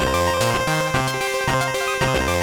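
Chiptune-style handheld rendition of Metal Gear Solid game music, with bright square-wave melody lines over stepping bass notes in a steady rhythm, played loud and clear with no talk.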